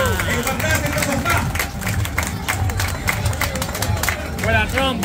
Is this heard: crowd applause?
yes